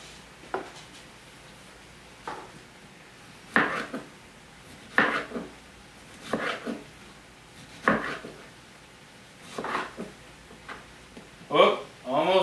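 Chicken fajitas being stirred in a pan produce intermittent scraping clatters and knocks of utensil against metal, spaced a second or two apart, with people talking in the background.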